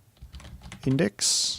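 Keys typed on a computer keyboard, a quick burst of clicks near the end after someone speaks, close and fairly loud.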